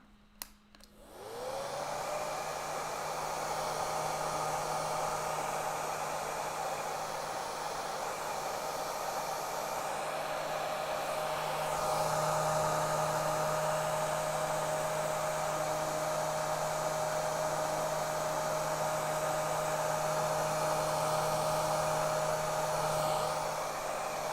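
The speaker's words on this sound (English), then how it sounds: "one more blow drying session and we're moving on" A hair dryer blows on a watercolor painting, starting up with a click and then whirring steadily and loudly for over twenty seconds, its pitch shifting slightly partway through as it moves across the paper.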